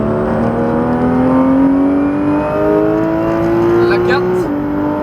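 A Porsche 991 GT3 RS accelerates hard on the La Ferté race circuit, its engine note climbing steadily with a brief shift near the end, loud and close from inside the car while a voice talks over it.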